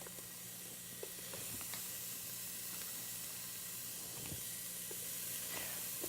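Ground beef and onion fry in a pan for chili with a quiet, even sizzle and hiss that runs steadily throughout, with faint crackles scattered through it.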